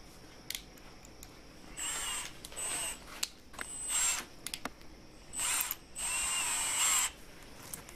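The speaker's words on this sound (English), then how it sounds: "And he's fitting the drill" A power drill whirs in several short bursts of varying length, with quiet pauses and small clicks between them, heard fairly close while building DIY fishing planer boards.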